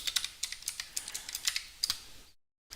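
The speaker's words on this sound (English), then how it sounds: "I do have" Loud, rapid typing on a computer keyboard, a quick run of sharp clacking keystrokes up close, ending abruptly in silence.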